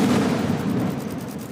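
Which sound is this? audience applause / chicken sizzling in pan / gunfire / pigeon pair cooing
gunfire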